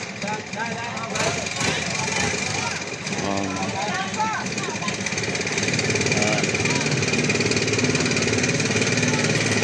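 A turbo engine runs steadily with a knocking mechanical rumble, while a person talks over it.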